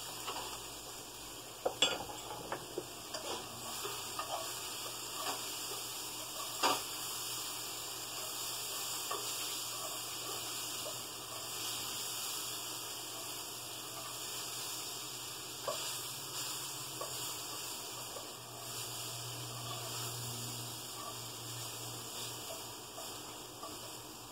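Tofu scramble with blistered tomatoes sizzles steadily in a frying pan, with occasional scrapes and clinks of a utensil stirring against the pan, close and continuous.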